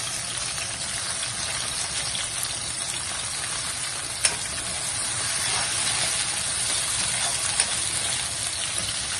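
Carrot and cabbage stir-frying in a hot pan for chicken and egg noodles, a steady close hiss and crackle throughout with one sharp clink midway.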